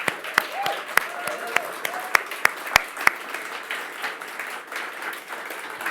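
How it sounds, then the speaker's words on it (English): A small audience at an annual report launch event claps in sparse, distinct slaps that thin out after a few seconds, leaving a quiet room. "I'd give you another round of applause for Jimmy and Kieran"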